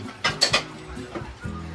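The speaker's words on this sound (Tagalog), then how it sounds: "Naghugas siya ng pinggan na napakadami." Dishes from a large pile being washed by hand, with a few quick clinks of plates and utensils, a soft clatter, and faint handling noise at a moderate distance.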